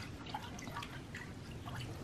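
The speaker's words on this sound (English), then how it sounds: "And we'll put those in the ice water" Cut quail pieces dropped into a bowl of ice water, giving faint soft drips and small splashes close by against a quiet background hum.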